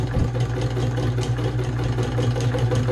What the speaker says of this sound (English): So you can sew pretty slow through the thick stuff